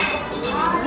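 Drinking glasses clink together in a toast among friends, a brief bright ring amid busy chatter and background noise.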